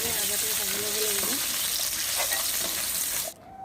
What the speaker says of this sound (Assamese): সৰু আলু কেইটামান দি দিম মাছৰ জোলখিনি সেইকেইটাও ভাজি লওঁ ভালকৈ ফ্ৰাই কৰি লওঁ